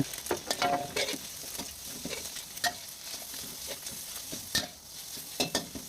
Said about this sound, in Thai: ผัดให้สุกๆหน่อย